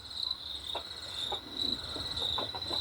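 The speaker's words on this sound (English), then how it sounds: "Oh, our crickets are back." A steady, shrill cricket chirp trills continuously throughout, with faint scattered clicks and rustles underneath; no voices.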